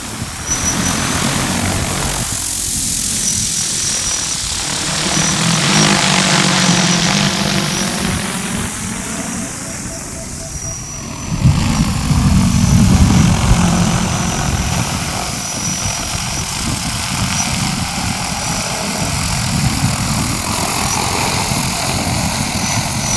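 Propellers of a Hylio Aries agricultural spray drone run continuously at a drone facility, a loud steady whirring drone that swells in the middle and holds without pause throughout.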